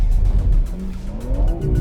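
A BMW M3 CS in rear-wheel drive mode, shifted into third, accelerates hard with its engine roaring loud and close. A rising engine note and a tire squeal run through the roar, with no talk.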